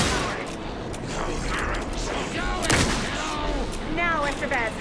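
Gunfire in the video game Alan Wake 2, rapid mechanical bursts of shots with clattering weapon action, loud and dense over a rumbling background.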